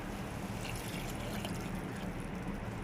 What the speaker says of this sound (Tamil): நம்ம கரைச்சி வச்சுருக்க கடலமாவு தண்ணி ஊற்றிக்கலாம்